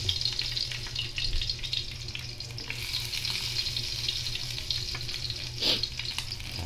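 Garlic frying in a pan, a steady bright sizzle close by with occasional stirring knocks and a brief louder hiss near the end, no voices.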